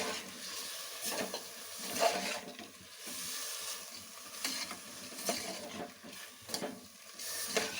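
Sprouted horse gram frying with tomato in a pan, a soft steady sizzle broken by repeated scraping stirs of a spatula at an irregular rhythm, close and moderately quiet.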